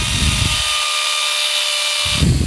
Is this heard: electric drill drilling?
yes